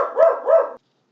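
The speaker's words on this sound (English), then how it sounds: "okay, dog's barking less" A dog indoors gives two quick, loud barks in close succession, followed by silence.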